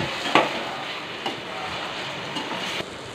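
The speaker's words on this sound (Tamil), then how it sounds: "சேர்த்துட்டு நல்லா கிளறி விட்டுக்கலாம்" Onions and tomatoes sizzle steadily in a hot pan while a spoon scrapes and stirs, with a few sharp clacks against the metal.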